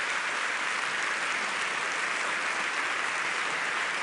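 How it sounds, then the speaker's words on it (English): An audience at an OSCE conference in Finland applauds a panel, a dense, even wash of clapping from many hands, steady and sustained for several seconds. "please give our panel the very warmest applause"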